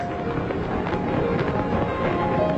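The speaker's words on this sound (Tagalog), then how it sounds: "nagkaroon ng engranding fireworks display para sa mga delegado ng APEC" A grand fireworks display for delegates at the APEC summit in Beijing produces a dense, continuous wash of crackling and rumbling bursts, loud and steady throughout, with no voices.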